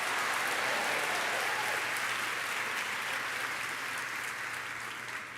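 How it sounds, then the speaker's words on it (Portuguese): A church congregation applauding during a worship service, a dense, sustained wash of many hands clapping at even loudness for several seconds before easing slightly at the end. "Pode dar uma salva de palmas ao Senhor."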